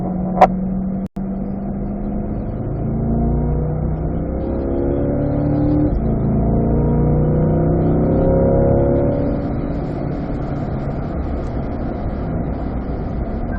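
A Corvette accelerates out of a corner on a race track, its engine note rising in steady upshifting sweeps, heard from inside over a constant loud drone with no voices.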